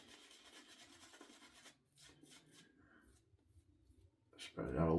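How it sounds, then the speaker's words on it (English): Shaving brush working soap lather on a chin, a soft, close scratchy rubbing that comes in quiet strokes and pauses, with a louder burst right at the end. "Go ahead and agitate the suds on my chin here."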